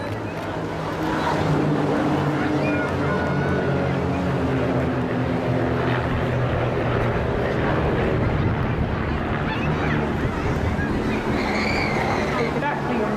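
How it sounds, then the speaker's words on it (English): Kit-built propeller aircraft fitted with smoke systems fly at a seaside airshow, a steady droning engine hum with rumble that continues throughout, loud and sustained, with voices talking over it. "these particular aircraft have been modified with the smoke systems that you can see"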